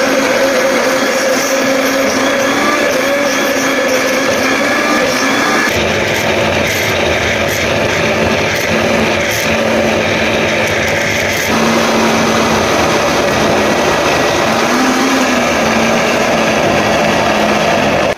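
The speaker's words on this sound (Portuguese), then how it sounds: "Aqui, ó, tá o milho no nosso liquidificador, ó. Eu vou estar acrescentando um pouquinho de água só pra ajudar pra bater, ó." A kitchen blender grinds green corn kernels with a little water, a loud continuous motor whine with a shifting pitch partway through, running steadily without any talking.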